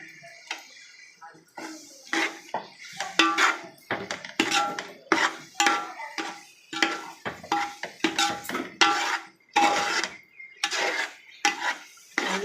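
Biryani masala with curd is stirred in a pot. A spoon scrapes and knocks against the metal in quick, irregular strokes, loud and close, with no talking.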